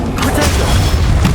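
Bombarda blast spell in Hogwarts Legacy, a single loud, dense booming burst that fills the short moment at close range.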